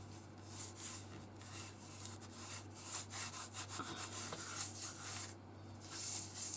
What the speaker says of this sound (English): it's always better to rub it in and make sure that you get it